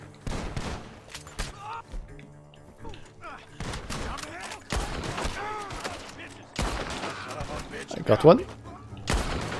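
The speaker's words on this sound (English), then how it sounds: "The gunshots are coming from that barn" Gunfire rings out from a barn in the video game Red Dead Redemption 2, with scattered sharp shots and bursts at varying distances while players talk over the fighting.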